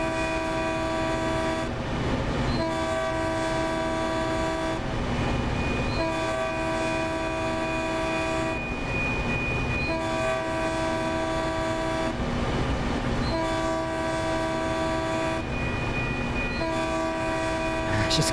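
A Californian commuter train on the Peninsula Corridor in Train Sim World sounds its multi-tone horn in long repeated blasts while passing crossings, over a constant rumble of rolling cars and wheels, loud and close.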